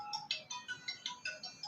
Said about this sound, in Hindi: अहो अतिना सवेरे सवेरे के कर फोन आ गइल हो।